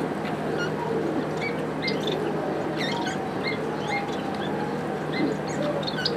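Half-sider budgie parakeets on a farm chirp and chatter continuously, many short bright calls overlapping over a steady background hum.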